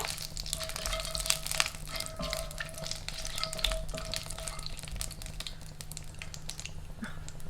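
Whole spices (cinnamon, marathi moggu, star anise, cardamom and cloves) crackle and fry in hot oil for a chicken salna while a spoon stirs them, a soft continuous sizzle with light scraping taps, close but quiet.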